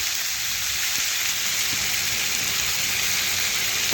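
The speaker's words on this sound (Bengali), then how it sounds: "এখন ভালোভাবে সমস্ত উপকরণ নাড়াচাড়া করে একটু সবজি ভেজে নিচ্ছি" Vegetables, including yardlong beans, sizzle steadily in a pan with salt, turmeric and red chili powder for a pumpkin curry, a dense, even frying hiss with no breaks.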